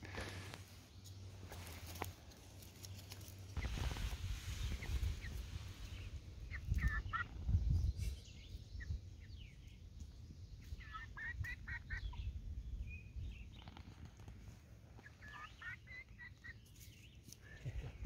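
Chickens cluck softly and intermittently at close range while being fed worms, with short bursts of calls scattered over a quiet background and no talking.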